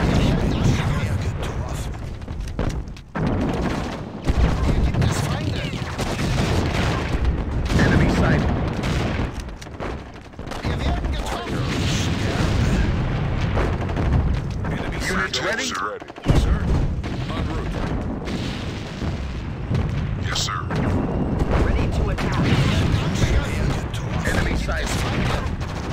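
Artillery and gunfire in the World War II strategy game Sudden Strike 2 build into a dense barrage of booms and rattling bursts, with heavy low impacts and brief lulls, while voices talk over the battle.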